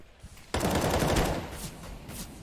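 Rapid automatic gunfire in Counter-Strike: Global Offensive during a professional match, a sudden loud burst that starts after a quiet half second and keeps going as a dense, sustained barrage.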